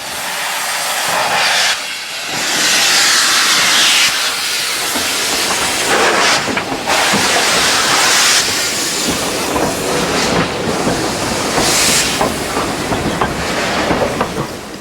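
LNER B12 steam locomotive 61572, rebuilt with a larger boiler, gives off a loud, close, continuous hiss of steam, broken by a few short gaps and with faint rail clatter underneath.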